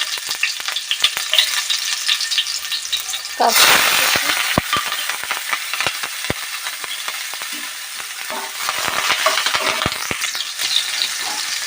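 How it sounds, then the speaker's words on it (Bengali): Nigella seeds and chopped garlic hit hot oil in a loud, close burst of crackling and spattering, which settles into a steady sizzle with a few sharp pops. "আমাদের তেল গরম হয়ে গেছে, এর মধ্যে আমি দিয়ে দেবো কালো জিরে। কালো জিরে ফোড়ন দিলে এর ফ্লেভারটাই অন্যরকম লাগে। দিয়ে দিচ্ছি রসুন কুচি"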